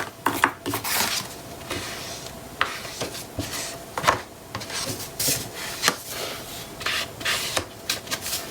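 An ink applicator is dabbed and rubbed along the trimmed edges of decorative paper, making a close series of soft, irregular scuffs and brushing strokes with short pauses between them.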